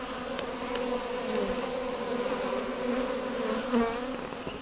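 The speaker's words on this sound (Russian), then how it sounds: "И вот такие пчелки у нас" Honey bees fly around a hive in spring in the Pripyat Polesie region of southern Belarus, a dense, continuous buzzing swarm with individual insects droning close to the microphone.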